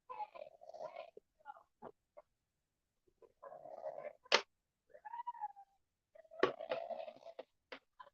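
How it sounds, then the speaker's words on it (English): A man snoring while asleep indoors, rough rasping breaths arriving in uneven bursts separated by quiet pauses, fairly faint and somewhat distant, with no talking. "Y'all can probably hear my husband snoring."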